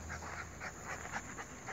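Dog panting rapidly in an open field after training, a steady close rhythm of quick breaths with no talk.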